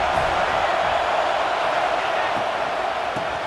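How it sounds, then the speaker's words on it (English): A stadium crowd in EA Sports College Football 26 roars steadily as the defense holds in the red zone, a dense, sustained wash of cheering at a distance with no clear individual voices. "And the crowd coming to life here trying to help this defense down in the red zone."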